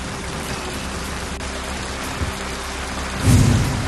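Heavy monsoon rain pours down in the Manvelpada area of Virar, a dense, even hiss of falling water with a low rumble underneath, swelling briefly louder near the end, with no voices.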